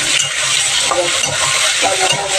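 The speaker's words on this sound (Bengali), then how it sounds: "ভাজি করছি" Bitter gourd and potatoes frying in a pan, a loud steady oil sizzle with faint stirring scrapes, close up and without talk.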